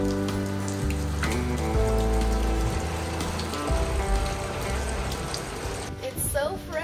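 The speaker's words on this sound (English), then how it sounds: "This morning greeted us with a downpour and thick fog." Heavy morning rain pours down in a foggy mountain jungle village, a dense steady hiss of drops on surfaces, with faint voices in the background.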